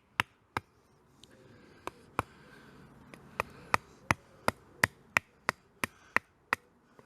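A survival knife strikes seasoned hardwood in a run of about seventeen sharp, crisp chopping knocks, irregular at first then settling into a steady quick rhythm, close and distinct with quiet between blows.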